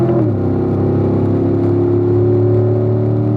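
A race car on a track accelerates hard up to fifth gear, its engine a loud, close, steady drone that climbs in pitch after a quick shift at the start.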